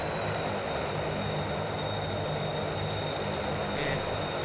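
A airplane engine drones at low power during a landing in the BeamNG.drive video game, a steady hum with tonal whine held evenly under the flight, no voices heard.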